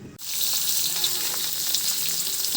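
Mustard seeds, green chilies and curry leaves hit hot oil for a tempering, bursting into a loud, dense, steady sizzle after a brief silent start.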